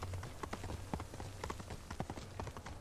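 Horse hooves clip-clop at a steady walking pace in Ghost of Tsushima, a rhythmic series of crisp strikes over a faint low hum, fairly quiet, with no talk.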